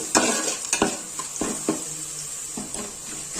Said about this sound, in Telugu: బాగా కలుపుకుంటూ వేయించుకోవాలి